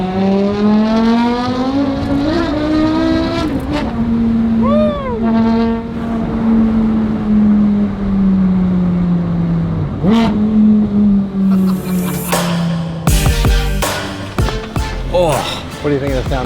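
Turbocharged Lamborghini rally car with straight pipes revving loudly nearby, engine tone climbing and falling through sustained pulls, with sharp pops and crackles on lift-off toward the end; people talk over it.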